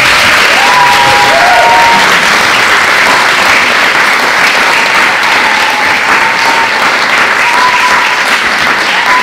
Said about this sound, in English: Let's do a round of applause.